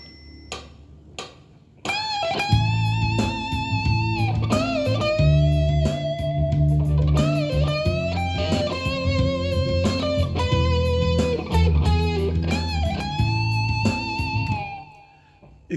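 Electric guitar lead solo from a song, sustained sweeping notes and bends over a steady backing, loud and continuous after a few opening hits, then fading.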